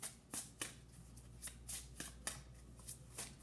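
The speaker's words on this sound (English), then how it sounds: "I'm really trying to shuffle for another card." Tarot cards are shuffled in quick, soft riffs that repeat at a steady rhythm, quiet and close with no talking.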